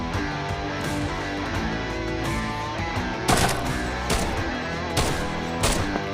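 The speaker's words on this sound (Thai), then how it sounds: "ยิงผมมาจากด้านล่าง" Gunfire in the shooter game Arena Breakout rattles over a dense, steady in-game soundscape, with sharper loud bursts standing out near the middle and end.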